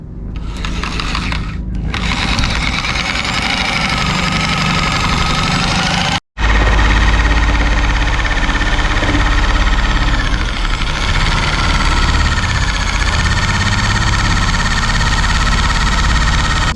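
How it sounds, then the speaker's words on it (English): Metal cutter cutting a window hole in a Sprinter van body, a loud continuous grinding and buzzing with a brief stop partway, then a long steady run with faint scraping. "there's the hole for Bob to start with the actual cutting device, the metal cutter"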